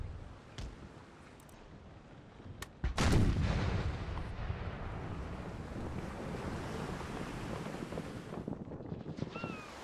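Cannon fire from a brig at a frigate in the naval battle game Empire Total War: a sharp thud, then a heavy roaring boom with a long rumbling tail over steady wind and surf, plus faint earlier shots.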